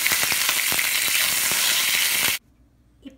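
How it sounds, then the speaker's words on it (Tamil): Curry leaves sautéing in a little oil, a loud close crackling sizzle with quick stir scrapes that cuts off abruptly into near silence, followed by a faint small knock. "இதுக்கு நான் லேசாக எண்ணெய் ஊற்றி கருவேப்பிலை வதக்கிக்கோங்க"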